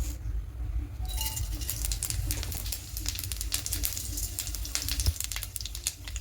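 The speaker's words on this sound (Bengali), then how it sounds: "সর্ষে তেল দেব, ফোড়নে দেব 5 ফোড়ন" Whole five-spice seeds hit hot mustard oil for a lentil-and-vegetable dal tempering, giving a steady crackling sizzle with patters and pops that stays close and fairly loud for the whole stretch.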